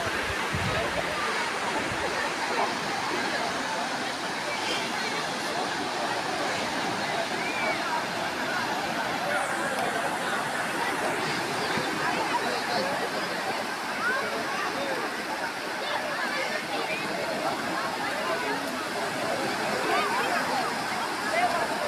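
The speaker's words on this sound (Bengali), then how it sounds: "বকালি সমুদ্রে তাও একটু ঢেউ আছে" A steady wash of sea waves breaking and sloshing on the shore at Bakkhali, a continuous broad rush with no clear pauses.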